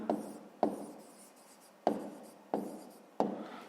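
Pen strokes on paper while working a fifth-grade maths exercise, five sharp onsets each trailing into a short scratchy rub, close and fairly quiet, with no talk over them.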